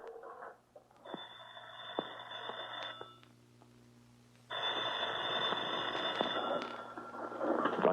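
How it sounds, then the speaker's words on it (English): A telephone rings indoors in an old radio drama, with two separate bursts of ringing and a short pause between them. The ringing is moderately loud and close, and nobody speaks. "Don't you answer your phone?"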